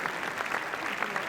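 Film crew and crowd applauding on the red carpet stairs at the Cannes Film Festival, a brief, faint burst of scattered clapping heard from a distance.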